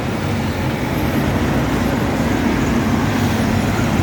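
Continuous low roar of expressway traffic at a roadside bus stop before a harbour tunnel, steady and loud with buses and cars rumbling past, no clear single event.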